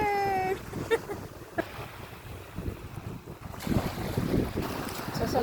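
Strong wind and rough sea waves buffet a boat out on open water, with gusty wind rumble and washing surf filling the scene, preceded by a brief tonal whine at the start; no one speaks.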